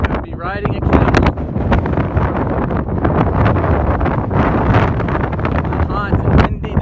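Strong, steady wind buffeting the microphone outdoors in a hot desert, with a loud rushing roar and gusts rising and falling throughout.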